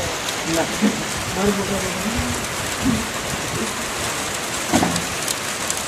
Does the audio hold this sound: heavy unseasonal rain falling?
yes